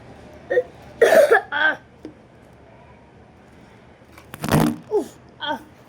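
A person coughs a few times indoors, short harsh bursts near the microphone separated by quiet room noise.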